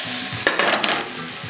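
Food stirred around in a 12-inch cast iron pan, a few soft scraping strokes over a steady background hiss of frying, moderately close.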